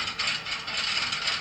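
A Pentaconta crossbar telephone exchange switching, a dense, continuous mechanical clatter of ratcheting relays and gears, fairly loud and busy with a pulsing rhythm, heard alone without speech.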